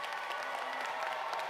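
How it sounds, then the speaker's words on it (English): A crowd applauds at a commencement ceremony, a steady, fairly faint wash of many hands clapping at once with no gaps across the brief stretch. "Please rise and let's recognize them with a round of applause."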